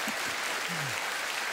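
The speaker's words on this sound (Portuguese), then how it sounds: "uma salva de palmas" A large church audience at an Easter evangelization show claps in a dense, steady wash that lasts throughout, with a brief voice rising faintly over it.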